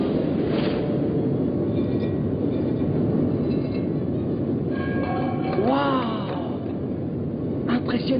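A cartoon train wagon fitted with turboprop engines gives a steady, loud rumbling roar throughout, with a rising whine and a few clanks near the end; a voice speaks over it.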